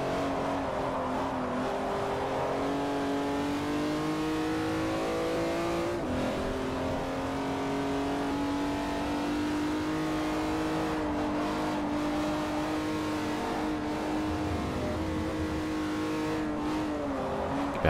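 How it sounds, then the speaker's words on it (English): Racing engines of an Audi TT and rival coupes in Forza Motorsport 4 drone steadily for the whole stretch, with rising revs and gear changes in a continuous, close engine roar and no talking. "Alright, now to catch a pass for Rossi and his Audi TT."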